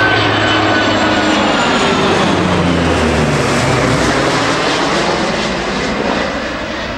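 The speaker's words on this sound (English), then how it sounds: "the heavy metal flyby of the Boeing 757 and P3K Orion aircraft" A Boeing 757 and a P-3K Orion fly past together on a dark, wet morning at an air force display, a loud, sustained roar of jet and turboprop engines that swells and then slowly fades as they pass overhead.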